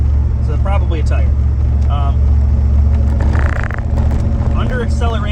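A Trans Am accelerates with a slight vibration, its steady low engine drone and road rumble running continuously beneath someone talking.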